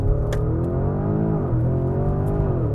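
A 2024 Porsche Cayenne Turbo GT SUV launches hard, its engine note rising steadily as it accelerates, loud and close with no talking.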